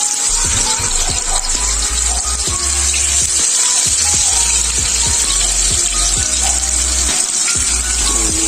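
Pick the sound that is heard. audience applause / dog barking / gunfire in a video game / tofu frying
tofu frying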